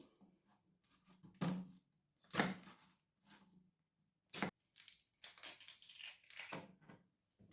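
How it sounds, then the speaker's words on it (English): A knife slicing an onion in half and trimming its ends on a board, heard as a few quiet, crisp cuts and crunches with short pauses, close by and without talk. "So the best thing to do with an onion, to cut it in half, cut the ends"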